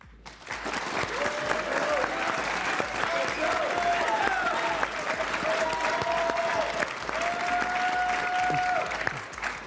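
Audience applause from a crowd in an evening event hall, sustained and steady throughout at a fairly loud, even level, with faint tonal bits of music or voices threaded underneath.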